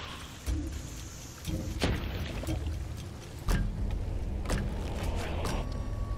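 Rain and rolling thunder in the game Hunt: Showdown, a steady wash of rainfall broken by several sharp thunder cracks and rumbles spaced a second or so apart, moderately loud with no voices.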